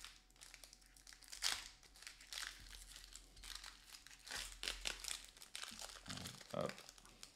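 Plastic wrapper of a Pokémon Prismatic Evolutions booster pack crinkles and tears as it is opened, in repeated close, sharp crackling bursts while someone talks.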